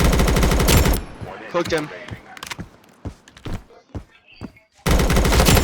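Automatic weapon fire in Blackhawk Rescue Mission 5, with loud, dense bursts opening and closing the clip. Between them come lighter shots, clicks and a brief spoken remark.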